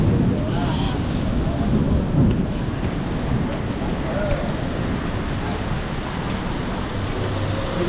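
Steady rain recorded on a phone in Kuala Lumpur, a dense, even wash of noise lasting the whole stretch with low rumbling underneath that may be distant thunder, and no voices.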